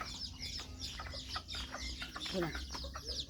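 Bantam chickens cluck softly and at a distance on a farm in Chanthaburi, a steady busy chatter of calls beneath a low background murmur.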